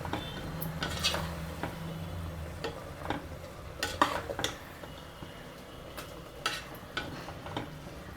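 Ground mint and green chili paste frying in oil for mint biryani, a soft low sizzle beneath repeated clinks and scrapes of a spoon against the pan, irregularly spaced and fairly quiet, with no speech.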